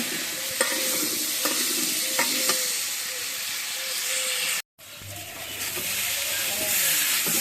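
Potato curry being sautéed in a pan with turmeric and chilli: a steady close sizzle with repeated spoon scrapes and stirring strokes, briefly cutting out midway before the frying resumes.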